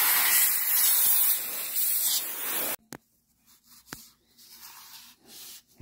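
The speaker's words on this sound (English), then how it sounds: "You're going to get some air, spray it out." Compressed air blasts across the keyboard area of a Lenovo ThinkPad T460 in a loud, continuous hiss, then cuts off abruptly and is followed by short, quieter bursts and faint handling noises.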